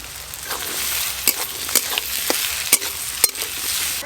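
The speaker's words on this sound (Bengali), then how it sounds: "পেঁয়াজের সঙ্গে আলু দিয়ে আলু আর পেঁয়াজ বেশ ভালো করে ভেজে নেব।" Thinly cut potatoes and onions frying in oil for a crab curry, a loud continuous sizzle with repeated sharp clinks and scrapes of a spatula stirring at an irregular rhythm, close up.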